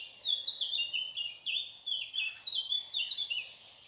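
Small birds chirp outdoors in quick, overlapping high twittering phrases, fairly faint and distant, with no talking.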